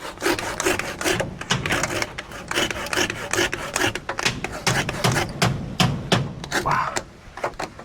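Steady rhythmic rasping of a hand saw cutting through bamboo, repeated back-and-forth strokes, loud and close, with faint voices in the background.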